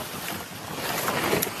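Water gurgles and rushes steadily at an outdoor picnic spot, a continuous loud wash of flowing water with some wind buffeting the microphone and no talking.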